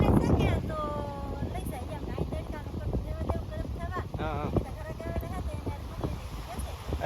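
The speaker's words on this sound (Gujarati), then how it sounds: "બહુ પવન છે" Strong wind at sea buffets the microphone in a steady rush, with people talking and calling out over it throughout.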